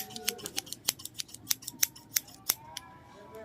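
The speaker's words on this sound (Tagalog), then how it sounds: "Ay, yung gunting na yan." Scissors snip repeatedly in quick, sharp, close clicks, about a dozen cuts in an uneven rhythm with no talking.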